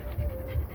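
Small dog panting in short rhythmic bursts close by, with a person speaking over it.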